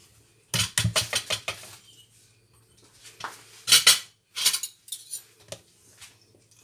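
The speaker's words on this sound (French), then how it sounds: "maintenant on va mettre ça dans notre moule à muffin" Batter made with rice is spooned into a silicone muffin mould, giving a series of quick scraping clinks of spoon against mould in two bursts with short pauses, close up, with no talking.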